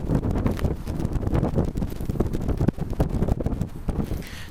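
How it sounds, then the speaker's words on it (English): Strong wind outdoors battering the microphone, a dense continuous roar with gusty buffeting throughout, near and loud. "it's going to be very, very windy where I am currently."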